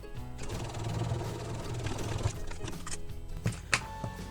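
A sewing machine stitches across a seam on a small fabric drawstring bag, a fast steady mechanical rattle with a few louder clicks, close and alone without talking.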